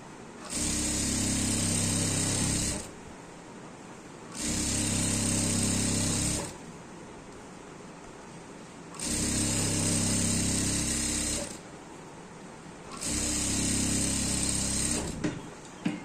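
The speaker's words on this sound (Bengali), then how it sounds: "সর্বপ্রথম এই মাথা দিয়ে সেলাইটা দিয়ে দিব, রাবারটা ভালো মতো একদম আটকে যায়" A sewing machine stitches elastic onto a salwar waistband in four loud, steady bursts of about two seconds each, with short quiet pauses between runs.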